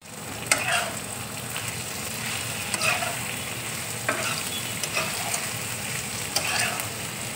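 Potatoes fry in a pan with salt, chili flakes and chopped coriander, giving a steady close sizzle broken by a few sharp scraping stirs spaced a second or two apart.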